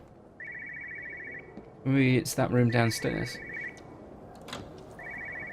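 A telephone rings in the video game Everybody's Gone to the Rapture, repeated electronic trill bursts heard from a distance, interrupted by someone speaking in the middle before the ringing resumes.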